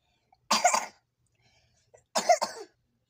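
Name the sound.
child coughing while eating fish curry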